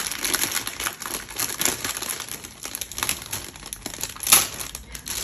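Paper from a Little Mermaid-themed planner spread being handled and torn, producing soft continuous crinkling and rustling with a brief sharper rip near the end, close and fairly quiet.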